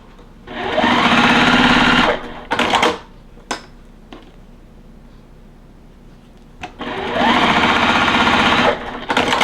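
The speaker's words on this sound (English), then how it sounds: "go ahead and sew those together" A sewing machine stitches quilt block pieces together in two loud, steady runs of fast mechanical whirring, with clicks and handling knocks during the quieter pause between them.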